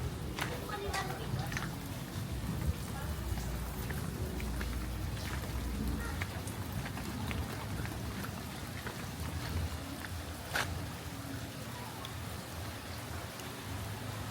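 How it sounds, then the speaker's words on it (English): Rain falling on an off-grid tropical island in the Philippines after a typhoon, a steady hiss of drops with occasional sharper taps and low rumble throughout. "holding out for the rain."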